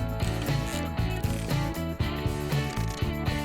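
A bolt is worked loose from the turn signal mount on a Harley-Davidson M8 Road Glide, with rapid ratchet clicks in quick bursts and short pauses, close and clear, with no voices.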